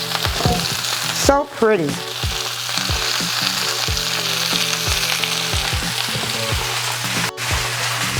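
Vegetables hit a pan of hot sesame oil and fry with a loud, steady sizzle, crackling continuously with a few stirring bumps while a voice briefly speaks over it.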